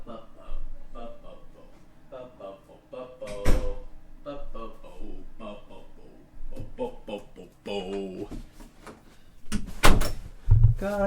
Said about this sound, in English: I'm going to go close the door.